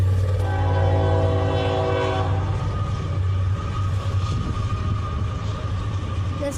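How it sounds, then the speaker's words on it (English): A Union Pacific train rolls past, its horn blaring in long sustained chords at close range, with a loud steady rumble and wheel noise continuing after the horn stops. "Union Pacific is coming."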